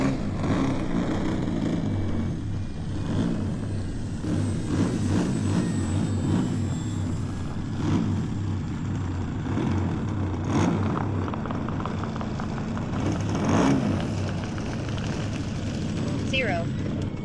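E-flite P-39 RC model airplane taxiing on a grass runway, its electric motor whining steadily with slight rises and falls over outdoor wind noise, while someone talks over it.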